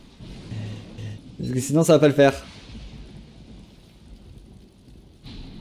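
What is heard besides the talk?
thunderstorm in video game Don't Starve Shipwrecked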